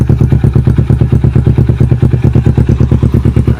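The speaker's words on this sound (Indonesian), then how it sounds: "kalau misalkan motor 250 itu masih normal, suaranya sangat halus" A Kawasaki Ninja 250 with carburetors and a Yoshimura exhaust idles close by. It gives a loud, steady, low-pitched putter with rapid even firing pulses and no voices.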